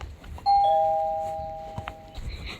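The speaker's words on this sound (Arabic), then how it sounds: "مين بيرن الجرس الصبح كده؟" A doorbell in the Avatar World game rings once as a clear two-tone chime that sustains and slowly fades over about two seconds, followed by faint soft sounds.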